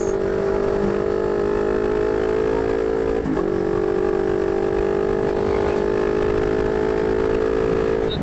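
A CFMOTO 400NK motorcycle engine runs at a steady, close idle, an even humming drone with one brief blip partway through, with no talking.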